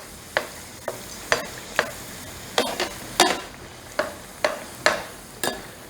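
Bread dough frying in hot oil as oil is spooned over it to make it puff, giving a steady low sizzle broken by about a dozen sharp splashy spoon strokes at a fairly regular pace, close up with no talk.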